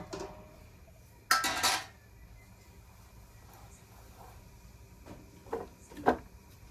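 A lid goes onto a pot of vegetable curry with a loud metallic clatter, followed by quieter kitchen clinks and a sharp knock a few seconds later.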